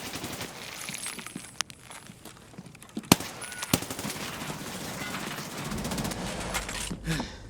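Gunfire in Escape from Tarkov rings out as sharp single shots and rapid bursts at an enemy, loud and close over a rumbling backdrop, with a few standout cracks in the middle.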